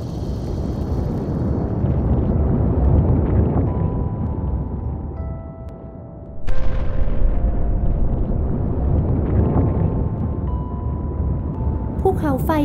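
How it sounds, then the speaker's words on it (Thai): A cartoon volcano erupts in a children's story, with a rumbling, blustery explosion effect that swells and resurges halfway through under a narrator's voice. "โดยการปล่อยให้ตัวเองค่อยๆระเบิดออกมา"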